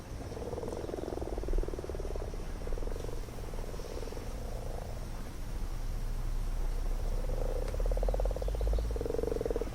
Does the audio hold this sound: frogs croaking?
yes